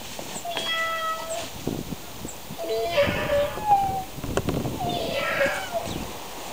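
A cat meows repeatedly in drawn-out, wavering cries, fairly close, with rustling and faint wind noise around it.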